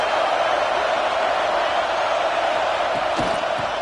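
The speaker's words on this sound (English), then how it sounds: "Listen to this crowd just shaking the girders of this place, trying to help their defense." A dense, steady roar from a packed college football stadium crowd in the video game NCAA 26, loud and sustained throughout, with a few faint thuds near the end.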